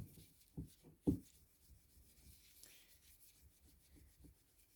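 A small piece of 1200-grit micro-mesh sanding fabric smooths Milliput epoxy putty in soft, quiet rubbing strokes, with a couple of firmer scuffs early on and fainter irregular brushing afterward.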